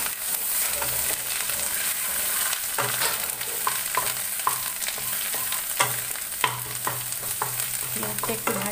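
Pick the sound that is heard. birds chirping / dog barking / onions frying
onions frying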